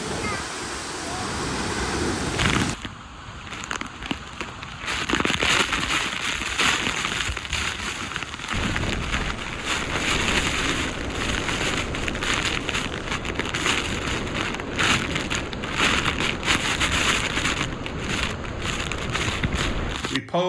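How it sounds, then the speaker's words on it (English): Mist and spray drifting from a waterfall: a loud, continuous broadband roar and hiss that fills the whole stretch without pause, heard close in the drenching spray. "it's not, actually not raining. It's just the mist from the falls."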